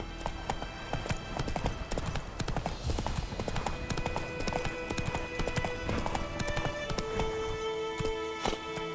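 Roach, the horse in The Witcher 3, gallops with rapid, continuous clip-clop hoofbeats up close, mixed with game ambience and music.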